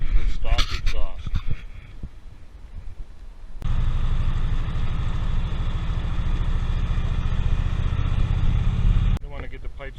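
A Harley touring V-twin with its stock exhaust idles steadily and loudly for several seconds, a constant low rumble, with a voice speaking briefly before and after.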